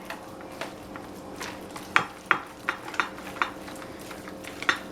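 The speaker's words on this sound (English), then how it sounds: "I'm using my whisk because I think it's easier to use a whisk" A whisk beats ricotta cheese into a mixture in a bowl, a run of quick, sharp clicks and scrapes against the side over a soft background, no voices.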